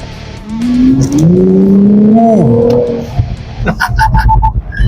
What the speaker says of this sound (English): Short burst right there, just to make me feel the power.